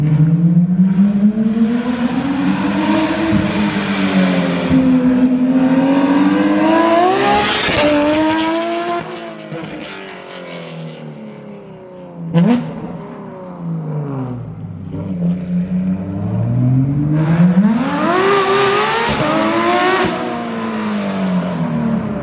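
Straight-piped Porsche GT3 RS engine revving hard and loud at a race track, pitch sweeping up and down repeatedly with sharp rising blips and a brief crack near the middle, close and dominant throughout.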